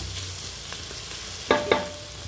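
Mutton biryani mixture being stirred and sautéed in a pan, a steady low sizzle with two sharp, close scraping clicks of the spoon against the pan near the end.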